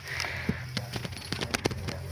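Hooves of a seven-month-old filly clip-clop at close range in uneven, irregular steps, with a steady low background hum.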